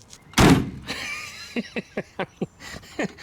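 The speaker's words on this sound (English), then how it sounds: "it has some really heavy doors on it, typical American car doors" A single heavy door of a 1960 Chevrolet Corvair shuts with a deep solid thunk, followed by a few soft knocks and rattles afterward.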